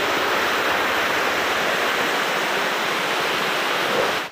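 Mountain stream water rushing steadily toward a waterfall in hill forest, a loud, continuous broadband roar with no pauses or voices, cutting off abruptly at the end.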